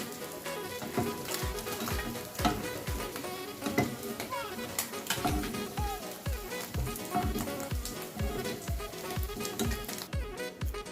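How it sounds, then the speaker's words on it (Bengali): The remaining amodi fish frying in hot oil: a loud, continuous sizzle with frequent rhythmic scraping and clinking of a utensil against the pan, heard close up without speech. "আমার বাকি মাছগুলোকেও আমি এইভাবেই ভেজে নেব।"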